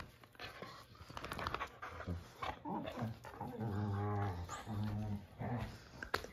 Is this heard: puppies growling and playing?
yes